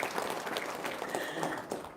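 An audience applauding in a room, steady clapping from many hands for about two seconds that fades slightly at the end.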